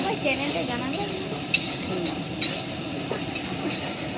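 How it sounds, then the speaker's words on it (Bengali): Meat cooking in a pan at a home kitchen, a steady low sizzle with a few sharp stirring clinks, while a voice talks faintly in the background. "এখন মাংস রান্না হচ্ছে"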